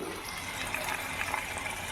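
Water is poured off during the making of homemade ghee, a steady broadband wash of splashing liquid that runs continuously at close range with no talk.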